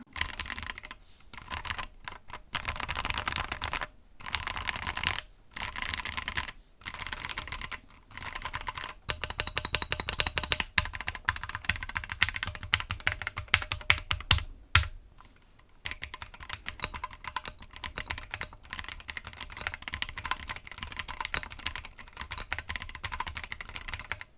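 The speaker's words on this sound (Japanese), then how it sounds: "これをちょっと打鍵音を良くしていきたいと思います。" Steady bursts of typing on a Keychron Q1 Pro mechanical keyboard, crisp clacking keystrokes close up, with brief pauses between runs and no voices.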